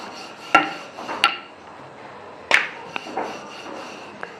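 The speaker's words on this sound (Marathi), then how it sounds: "मी किचन वट्ट्यावरतीच लाटून घेणार आहे" Chapati dough for maswadi being rolled with a rolling pin directly on a clean kitchen counter, giving a few sharp knocks and clatters amid soft rubbing and scraping, close by, with no talk.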